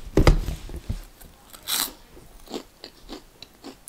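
Someone bites into a crisp snack and chews it close up, giving loud crunches followed by irregular crackling bites and chewing.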